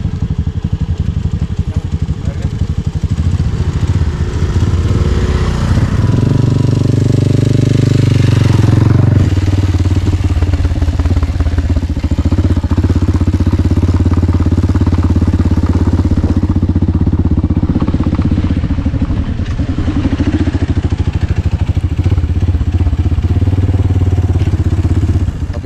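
A motorcycle carries riders toward a hot water spring at Kapurulla, its engine droning loudly and continuously up close, rising with a rev midway, then settling into a steady run with wind rumble.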